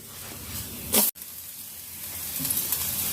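Thalipeeth flipped in a hot pan, a steady soft sizzle of roasting dough with a brief louder hiss and clatter as it turns over, then continued quiet frying.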